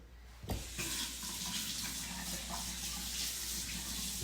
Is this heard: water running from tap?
yes